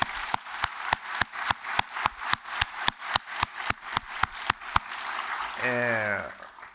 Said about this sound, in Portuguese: mais uma salva de palmas, por gentileza